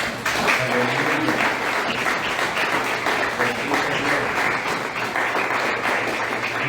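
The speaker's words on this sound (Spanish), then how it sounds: "démosle un aplauso a mi Señor" Church congregation applauding during a Spanish-language sermon, a dense, steady wash of clapping filling the room from start to finish, with faint voices mixed underneath.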